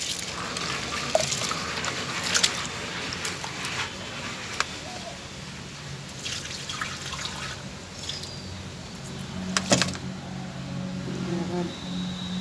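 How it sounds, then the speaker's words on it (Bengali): Rice and lentils being washed by hand in water, with a soft trickle, drips and sloshing and a few sharper splashes, faint and close in a quiet outdoor setting. "আমি চাল ডাল ধুচ্ছি।"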